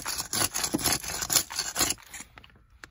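A hammer scrapes across a soft, water-damaged cinder block foundation wall in a series of quick, gritty rasping strokes, close and loud, before trailing off into a few faint scuffs with no talking.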